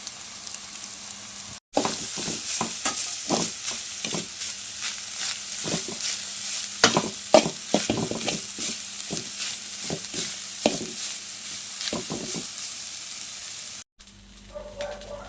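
Grated coconut is stirred and fried in oil in a wok for a Kerala-style curry: a steady close sizzle punctuated by rapid, repeated scraping and clacking strokes of a spoon against the pan.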